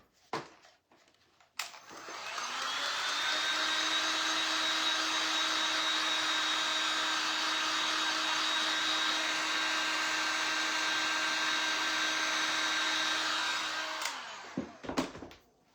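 A hair dryer drying a painted craft project of Easter egg acorns with twine, blowing as a steady, even whoosh with a faint whine for about twelve seconds, switched on and off with clicks at each end.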